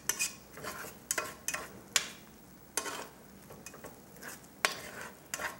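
Eggs with mushrooms and onion are stirred in a pan, a utensil scraping the bottom in repeated short, close strokes over a faint sizzle, with no talk.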